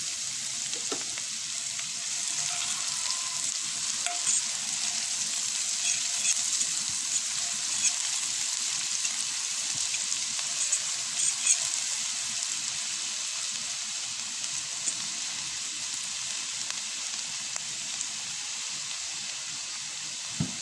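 Red onion sizzles steadily in a hot pan for a white-sauced pasta with cream and shrimp, a continuous bright frying hiss with occasional faint stirring scrapes.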